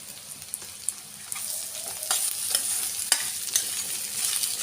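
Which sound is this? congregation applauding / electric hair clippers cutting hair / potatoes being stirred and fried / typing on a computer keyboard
potatoes being stirred and fried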